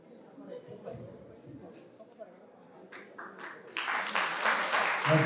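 Applause from an audience at a university teaching event starts after a stretch of background murmur and talk, swelling into dense clapping over the final second and a half.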